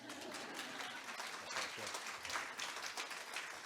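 An audience at a library conference keynote by writer Damian Barr claps in steady, moderate applause, a continuous even patter with faint voices mixed in.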